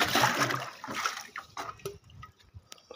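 Water from a tank gushes into a bucket as it fills, a splashing rush up close that tapers off into scattered drips and small gurgles.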